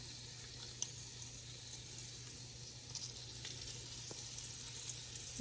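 Pieces of meat sear one by one in a hot pan for a hearty Italian soup, a quiet, steady sizzle with faint crackles and a small tap near the start, heard alone.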